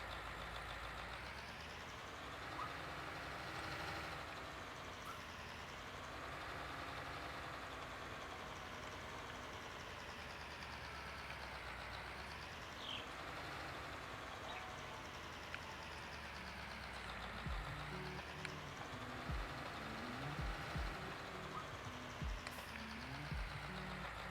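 A tractor engine idles steadily in Farming Simulator 19, a continuous low rumble whose pitch swells and dips slowly, with light clunks and knocks toward the end.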